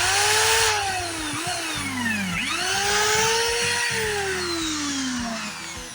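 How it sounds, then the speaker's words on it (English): A power drill whines through a rubber anti-vibration mount from an Evinrude 5.5–25 HP outboard's lower cowl, its motor pitch sweeping up and down as the bit bites, close and continuous. "just to drill a hole through the mount."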